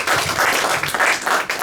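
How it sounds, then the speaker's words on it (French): A church congregation claps together in rhythmic bursts, fairly loud and close, with a few brief pauses between waves of clapping. "Nous applaudissons pour Jésus."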